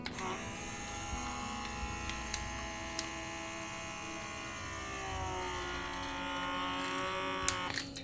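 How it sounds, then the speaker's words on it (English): A vacuum sealer runs with a steady electric motor hum that drones on without pause, with a faint buzzing edge and a few small clicks, no voices. "And now we're gonna vacuum seal each one of them."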